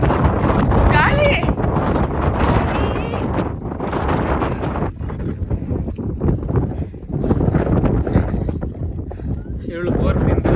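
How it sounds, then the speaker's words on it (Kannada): Strong wind buffets the microphone outdoors on an off-road jeep outing in hill country, heavy rumbling gusts that surge and ease, mixed with people talking nearby. "ಗಾಳಿ"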